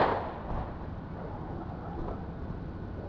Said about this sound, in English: Here is a ShotSpotter audio recording of a single round fired from the suspect's gun.